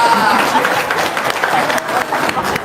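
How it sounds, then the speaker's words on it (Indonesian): Applause from an audience at a talk, dense clapping with crowd murmur throughout, fairly loud and steady. "Tepuk tangan dong."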